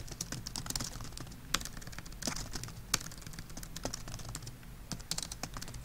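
Keys clatter on a computer keyboard as an email is typed, in quick irregular runs of close, crisp taps with a few louder strokes and short pauses, and no voice.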